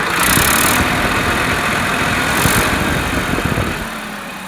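A Sonalika DI 740 farm tractor, nearly new with a side gear, idles close by in a loud, steady diesel rumble that eases slightly toward the end.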